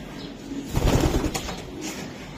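Club-raced racing pigeons coo nearby, and a short flurry of wing flapping swells in the middle before it settles back to a low, steady murmur.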